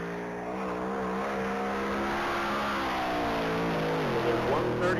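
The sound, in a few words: GTO race car accelerating on a top speed mile run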